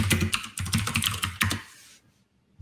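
Rapid typing of a command on a computer keyboard under Windows, a dense burst of close key clicks for about two seconds, then a pause and one final key press, no talk.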